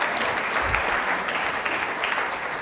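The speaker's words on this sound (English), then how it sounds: "So give yourselves a round of applause." Sustained applause from a conference audience at a sports boot camp session in San Francisco, a dense, steady wash of many hands clapping at even loudness throughout.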